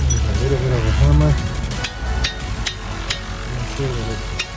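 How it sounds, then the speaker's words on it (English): Sharp metallic hammer strikes ring out at irregular intervals during a Honda Del Sol Si brake pad and rotor replacement, a handful of blows following a stretch of nearby talking. "Here's a little bit of a hammer."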